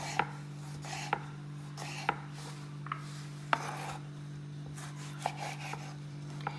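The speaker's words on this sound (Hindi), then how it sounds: "जो मैंने टमाटर ऐड करने हैं वो भी मैं काट के इसी वक्त डाल दूँगी।" Kitchen knife chopping tomatoes on a board, a run of light, irregular taps and slicing scrapes against a steady low background hum, with no talking.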